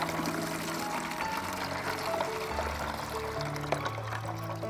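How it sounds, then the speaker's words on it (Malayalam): Homemade organic fertilizer slurry of dung and leaves being strained and poured, a steady close liquid pour with trickling running throughout, no talk. "ഇനി ഇതിനെ നമ്മൾ അരിച്ചെടുത്തിട്ടാണ് നമ്മൾ ഇന്നത്തെ ഈ ഒരു ജൈവവളം ഉണ്ടാക്കാനായിട്ട് പോകുന്നത്"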